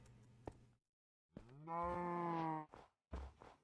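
A cow moos in the Minecraft video game, one long, close, clear moo in the middle, with shorter low grunting bursts before and after and a silent gap between.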